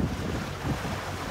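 Sailboat running under engine off Guadeloupe's leeward coast, heard as steady low wind rush and water noise with a continuous rumble and no voices.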